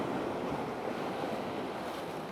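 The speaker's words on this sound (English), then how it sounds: "That water is beautiful, coming up in between the rocks." Ocean waves surge and wash up between coastal rocks at sunrise, a steady rushing wash mixed with wind buffeting the microphone.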